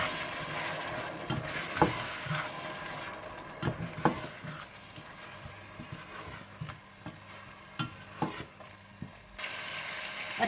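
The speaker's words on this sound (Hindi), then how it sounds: "अदरक लहसुन डालने के बाद आप इसमें टमाटर डालकर मिक्स कर लें।" Ginger, garlic and tomatoes sizzle softly in a pan for kale chane while a spoon stirs them, scraping and clinking against the metal at irregular intervals over a low, steady frying hiss.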